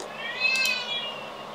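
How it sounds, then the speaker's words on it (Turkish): A cat gives a single drawn-out, fairly loud meow that rises in the middle and then trails off, heard on its own with no talking. "Kedi de miyavlıyor."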